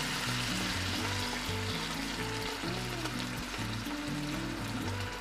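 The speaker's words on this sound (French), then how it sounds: "on va venir ajouter un peu d'eau pour la cuisson de l'oignon" Onions softening in a pan with a splash of water for a light minced-meat quiche, giving a steady, close sizzle and frying hiss that carries on unbroken, with no talking.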